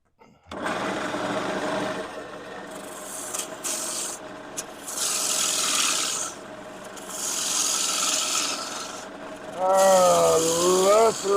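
A wood lathe turning a piece while a tool cuts and throws shavings, giving a continuous rasping, buzzing scrape that comes in long bursts with brief pauses, ending in a rising and falling whine.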